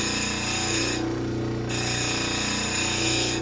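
Grinding wheel grit rubbing against a cabochon stone during lapidary shaping, a steady close abrasive whir that runs continuously, with a brief dip in the higher hiss partway through.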